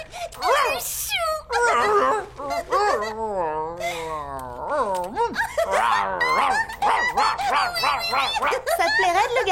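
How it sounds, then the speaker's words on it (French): A small cartoon dog whimpers and yips with high, wavering whines and short squeaks that come in quick bursts, mixed with animated character voices. "Tu es un petit toutou très habile,"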